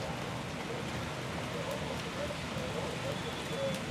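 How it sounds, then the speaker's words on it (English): Steady light rain falls with no wind, a continuous soft hiss of drops on surfaces with occasional faint ticks, evenly spread and fairly quiet throughout. "as you can see, the rain is here"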